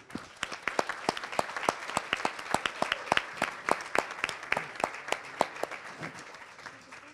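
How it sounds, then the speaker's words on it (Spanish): Sustained audience applause at a food policy congress on public procurement and food programs, with dense, steady clapping throughout and sharp individual claps standing out at a regular pace, fairly close and full. "yo pedir un aplauso"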